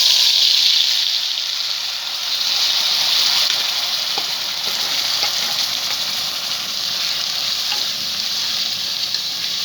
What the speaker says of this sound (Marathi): तेल आपलं चांगलं तापलं आहे. त्यात आपण हा मसाला घालून घेतो.